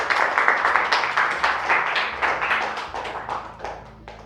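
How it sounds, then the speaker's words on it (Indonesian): A small group at a university lecture claps in applause, a short burst of distinct overlapping hand claps that fades over a few seconds. "Tepuk tangan dulu untuk kita semua."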